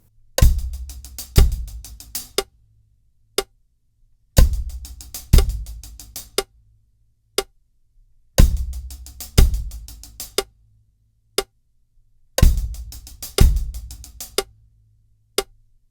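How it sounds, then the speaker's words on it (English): A drummer plays a six-stroke roll on the hi-hat with bass drum hits, the fill repeated four times: each burst a quick flurry of close, loud strokes ending on a sharp accent, separated by brief silences and lone single hits. "we're going to be playing the rudiment, the 6-stroke roll, and that's going to be played on the hi-hat"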